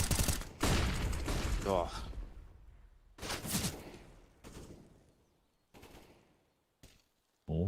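AK and Tech-9 fire in a Counter-Strike esports match, several loud separated bursts that fade into decaying tails, with an excited commentator's voice over the opening shots.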